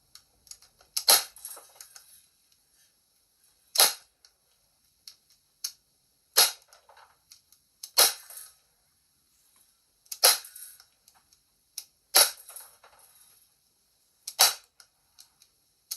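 BB gun fired from a smooth-bore barrel at cans, sharp cracks at irregular intervals of a few seconds, each followed by a brief metallic ping or rattle, about eight shots with no talking.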